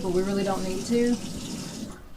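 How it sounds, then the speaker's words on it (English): Hot water running steadily from a sink tap in an off-grid house, a constant rushing hiss beneath someone talking, ending just before the clip stops. "I've got the sink running on hot"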